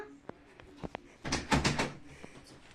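A bedroom door is tried but stays stuck: a few sharp isolated clicks, then a brief rattling burst of handle and door movement, close and moderately loud.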